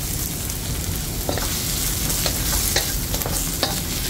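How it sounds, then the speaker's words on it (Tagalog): Onions sizzle and fry in a pan on the way to light browning, a steady close crackle broken by occasional stirring scrapes, with wind outdoors and no talk. "Sarang natin siya na ganyan hanggang sa mag-brown ng bahagya yung ating sibuyas"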